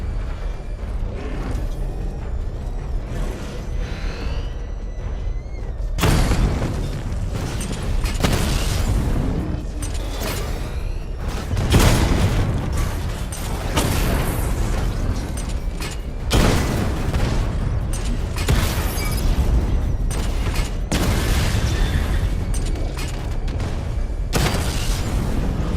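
Repeated explosions from the Batmobile's missile barrage in Batman: Arkham Knight, a dense series of loud booms and blasts with mechanical clanks, firing nearly continuously from about six seconds on after a quieter start.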